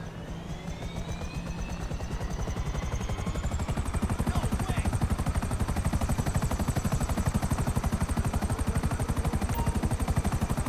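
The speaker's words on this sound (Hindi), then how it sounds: "तो हेलीकॉप्टर मंगा दिया है" A helicopter arriving in the video game GTA 5, a loud, steady rotor thump with a constant rapid chop and turbine whine, building slightly over the first seconds and holding close and dense throughout.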